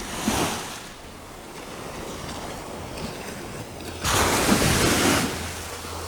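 Ocean shore break rolls in at Half Moon Fort: a soft wave wash early, a quieter lull of hissing surf and wind, then a louder, sustained crash of breaking water over the last two seconds.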